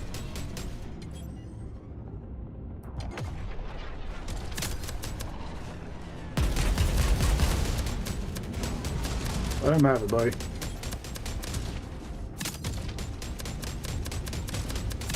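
Flak launcher turrets fire in the space combat video game Jump Space, rapid bursts of gunfire crackling over a steady background hum while someone talks, with a louder volley partway through.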